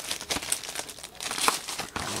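Stiff, hard plastic card packaging being bent and crinkled up close, a few quick rustling crackles and snaps in close succession over a couple of seconds.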